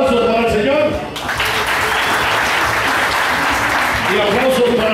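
A live radio show audience bursts into loud, sustained applause with cheering, starting about a second in and continuing steadily to the end, with voices mixed in at the edges.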